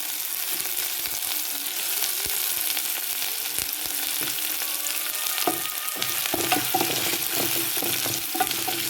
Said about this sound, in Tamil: எல்லாம் போட்டுட்டோம் வெங்காயம் பச்சை மிளகாயை போடுவோம்